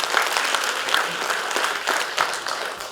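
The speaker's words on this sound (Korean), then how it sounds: "네, 큰 박수 부탁드립니다." An audience claps at a district mayor candidates' policy debate, producing a lively crackling patter of applause that carries on evenly for several seconds.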